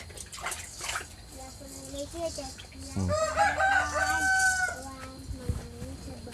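A rooster crows loudly at close range, its drawn-out call rising and wavering in the middle of the stretch, amid scattered clucks, household clatter and running water, with people talking intermittently.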